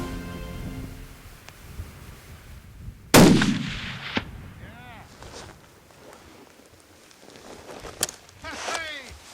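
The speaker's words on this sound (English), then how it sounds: "and Bruce prepares to take a shot" A single loud rifle shot cracks out during a mule deer hunt outdoors, with a short rolling echo afterward and quiet voices talking later.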